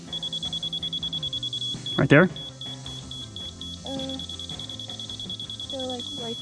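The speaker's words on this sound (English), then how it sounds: "Let's turn the beeping on" A steady, high electronic beep pulses continuously from a marking device during a concrete pier foundation layout, faint and constant, while people talk nearby and a brief thump breaks in midway.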